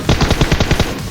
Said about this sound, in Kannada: ಏನು ಫೈರಿಂಗ್ ಆಗೋದು?